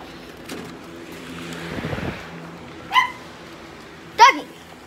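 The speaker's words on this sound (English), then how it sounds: "Doggy!" A dog gives two short, sharp barks a little over a second apart, near and fairly loud against a quiet indoor background with some faint rustling.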